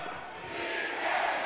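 Large crowd at a Busan election rally shouting together for a candidate, a dense swell of many voices rising in a brief chant, loud and reverberant.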